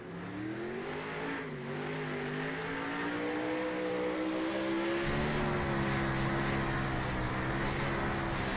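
A 360 sprint car engine qualifying on the Eldora dirt oval in iRacing: a loud, steady engine drone holds and bends in pitch, dips briefly, then swells louder and rougher partway through.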